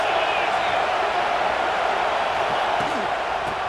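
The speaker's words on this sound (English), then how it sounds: "This crowd trying to make life miserable for this offense." A steady, dense stadium crowd roar in EA Sports College Football 26 fills the background as a football game's commentator talks over it.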